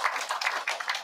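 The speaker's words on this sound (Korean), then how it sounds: "우리 모두 감사의 박수로 함께 받도록 하겠습니다" A crowd at an election campaign office opening claps to welcome South Korea's president-elect Yoon Suk-yeol, a brief burst of many hands at moderate distance with no talk.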